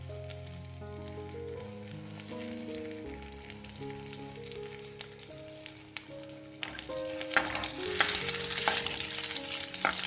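Ginger and garlic frying with cumin seeds in a pan while cooking matar mushroom, a steady sizzle with stirring scrapes under soft background music, growing louder and busier toward the end.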